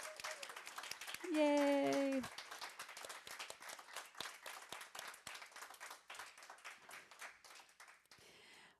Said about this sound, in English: Please give Steve the warmest thank you with a round of applause.